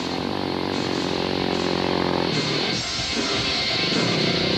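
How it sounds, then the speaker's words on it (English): A KTM rally motorcycle races across the desert during the 2000 Paris-Dakar Rally, its engine a loud continuous drone that shifts in pitch partway through as it passes close by. "Eric Bernard of France heading for 9th on his KTM"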